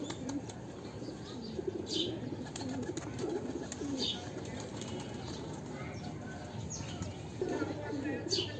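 Pigeons coo softly on a rooftop, low repeated throaty calls under faint background noise and someone speaking quietly, with occasional chirps and wing sounds.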